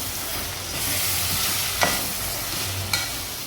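Mutton pieces fry and sizzle in a spicy masala in a pan for a Marathi-style village mutton rassa, with a loud, steady hiss and two sharp scraping stirs, and no talking.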